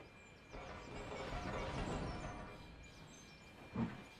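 Train running in the video game Trainz Railroad Simulator 2019, a rolling rumble that swells and fades over a few seconds, ending with a brief louder clunk.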